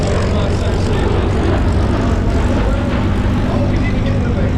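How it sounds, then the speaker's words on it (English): A V-22 Osprey tiltrotor aircraft flies past at speed along a shoreline, its broad, steady engine and rotor roar filling the scene loudly and continuously under a commentator's voice. "The V-22 Osprey from the Purple Fox, the world famous Purple Fox, is 300 miles an hour down the shoreline."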